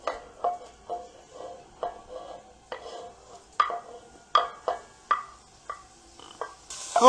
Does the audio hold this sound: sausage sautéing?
yes